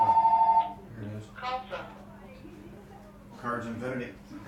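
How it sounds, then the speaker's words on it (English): A telephone rings with a quick electronic trill at the very start, then stops, followed by someone talking in a quiet room. "Phone's ringing, dude."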